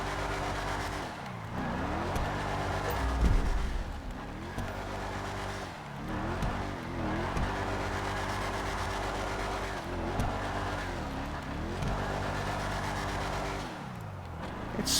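A Declasse Mamba sports car in GTA 5 Online, engine revving up and down through repeated gear shifts while drifting, with occasional tire squeal, steady and loud throughout.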